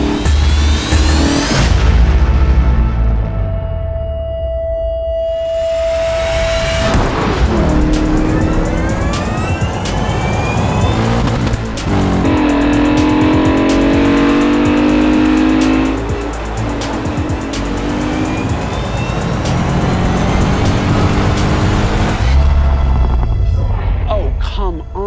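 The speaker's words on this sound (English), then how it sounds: "And here it comes at 70 miles an hour, V8 screaming." A BMW E39 M5 with a high-revving V8 drag races a Tesla Plaid and a Lucid Air, its loud engine screaming as it climbs through the gears, with rising and falling whines and a close, roaring pass.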